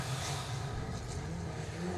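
Midget race cars accelerate hard off the start at a race meeting, their engines roaring together in a dense, continuous drone with rising revs, loud but heard from trackside distance.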